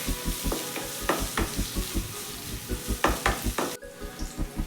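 Ivy gourd sizzles steadily in a pan while a spatula scrapes and taps in a regular rhythm, close and fairly loud, and the frying noise drops off near the end.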